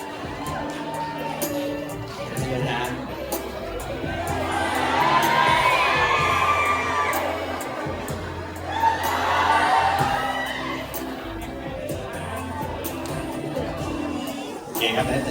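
A stage crowd at a fan event for a debut single release cheers and shouts as guests come up for photos, a dense, sustained roar with high excited shrieks swelling twice and holding loud throughout.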